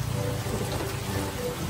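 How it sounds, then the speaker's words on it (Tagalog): Heavy rain pours down steadily outdoors, a dense, continuous roar of drops hitting surfaces with a deep rumbling undertone, loud and unbroken throughout. "Sobrang lakas ng ulan."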